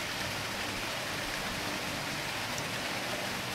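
Rushing water in a puzzle game swells as the level rises, a loud, constant wash of noise like heavy rain or a waterfall, with no voices.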